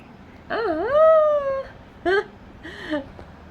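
A puppy whimpers in three high, drawn-out whines, the first long and wavering, the next two shorter, with no other sounds.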